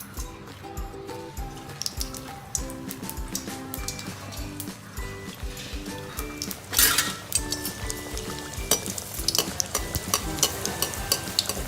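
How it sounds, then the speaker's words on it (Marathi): Anarsa sweets fry in hot oil over a low flame, with a continuous bubbling sizzle, repeated clinks and scrapes of a metal utensil against the pan, and a louder stirring burst midway. "तेल गरम झाल्यावर आपण ते मंद आचेवरच तळून घेऊ"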